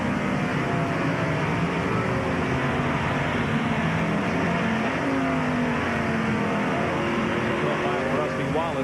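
Close-running NASCAR race cars at the 1994 Save Mart Supermarkets 300 road race, their engines roaring steadily and densely throughout, with shifting pitch as cars pass, continuous and fairly loud under crowd and track ambience.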